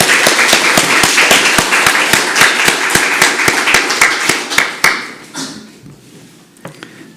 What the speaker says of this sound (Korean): 수고했다고 박수로 한번 경례하십시오